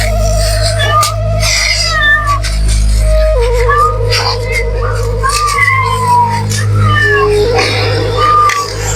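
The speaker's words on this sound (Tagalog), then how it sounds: "Pusa" A cat meows repeatedly near a shared hand-eaten mukbang meal, several drawn-out, wavering cries spread across the stretch over a steady low electrical hum.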